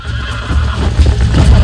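A horse being broken in Red Dead Redemption neighs and whinnies repeatedly, loud and close, with faint hoof clops and a low rumble of game ambience underneath.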